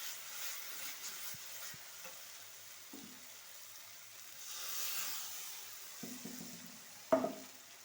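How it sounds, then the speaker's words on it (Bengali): Water goes into a pan of sizzling turmeric and spices, with soft frying hiss, a few stirring clinks and a brief splash and bubbling surge near the end, all fairly quiet. "একটু নাড়াচাড়া করে এবার জল দিয়ে দেবো।"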